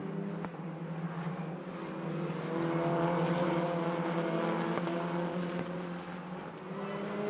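Renault Clio Cup race cars at Magny-Cours circuit roar past in a continuous engine drone that swells to a peak midway and eases off, with loud revving tones layered throughout.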